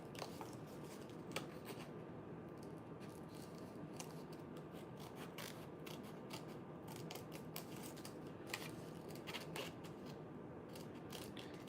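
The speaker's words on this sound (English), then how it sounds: "I'm just gonna bend it in the middle so then it's easier to cut the corners." Scissors snip through paper in quiet, irregular clicks and crisp cuts, close by over a low steady background hiss.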